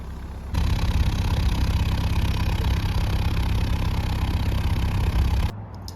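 A steady low narrowboat engine rumble drones on at an even level for several seconds, then cuts off abruptly near the end, leaving quiet.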